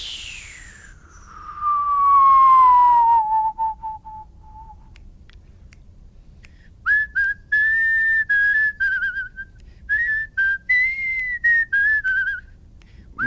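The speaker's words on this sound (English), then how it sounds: "if you whistle downwards, you'll be able to get the note in 5 seconds" A person whistles a long downward glide, then after a pause a run of short melodic whistled phrases rising and falling, clear and close against quiet background.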